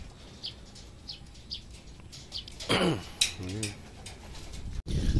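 Racing pigeons coo in a loft, a few close, low warbling coos rising over faint chirps and background rustle, ending with a sudden clatter.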